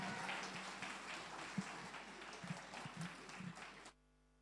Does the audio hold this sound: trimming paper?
no